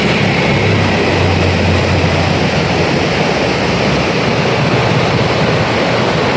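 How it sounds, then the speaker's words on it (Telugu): A waterfall flowing into the Bhagirathi River at Gangnani rushes in a loud, steady, unbroken roar with no voices. "ఎక్సలెంట్ వాటర్ ఫాల్స్ అండి. కింద భగీరథి నదిలో కలుస్తుంది."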